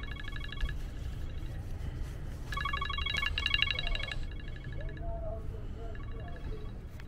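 A telephone rings in three separate bursts of electronic ringing, with pauses between them, from a setting at or inside a Jayco Precept 34G motorhome. A steady low background rumble runs throughout.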